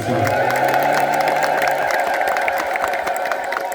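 A church congregation at an Ethiopian Orthodox Saint Mary feast ululates together, a loud sustained chorus of high trilling voices filling the hall, with a few crowd sounds mixed in.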